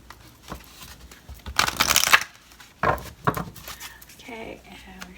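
Tarot or oracle cards being shuffled by hand, with two loud riffling bursts of papery flutter separated by a pause, followed by quieter handling and soft talk.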